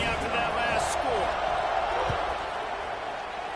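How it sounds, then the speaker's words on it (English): A college football stadium crowd roars steadily after a score, a dense, continuous wall of cheering that holds at full volume throughout with a faint whistle early on. "this crowd is buzzing after that last score"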